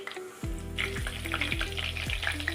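Green chillies added to hot oil with bay leaves, cloves and cardamom hiss and crackle in a pan for a spicy boti fry curry, a sharp burst of sizzling followed by steady frying and a few regular stirring knocks, close up with no voices.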